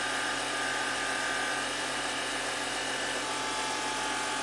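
A 2014 Audi Q7 TDI's air suspension compressor hums steadily as it raises the rear of the SUV from comfort to off-road height, a continuous close mechanical whir with no talk over it.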